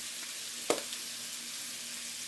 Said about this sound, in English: just keep stir frying stir fry until it gets a good golden brown